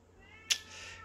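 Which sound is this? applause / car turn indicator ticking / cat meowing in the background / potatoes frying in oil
cat meowing in the background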